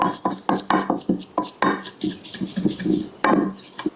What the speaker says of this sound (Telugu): ఒకసారి అయితే లైట్గా దంచుకుందాం.